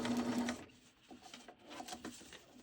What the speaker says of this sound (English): then we're going to sew around this corner